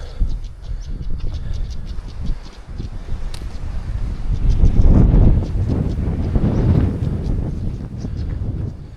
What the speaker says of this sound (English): Gonna be windy up here.